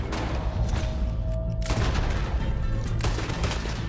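Video game gunfire rings out in rapid bursts, a dense string of loud close shots with a short lull midway before the firing resumes.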